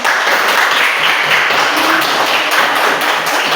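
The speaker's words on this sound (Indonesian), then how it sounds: "Berikan aplaus." A classroom audience claps after a group presentation, dense steady applause from many hands, loud and close, filling the whole stretch without breaks or talking.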